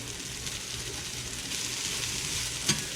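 Mushrooms frying in butter in a Lodge cast iron skillet at a camp cook, giving a steady, close sizzle throughout with a brief sharper crackle near the end.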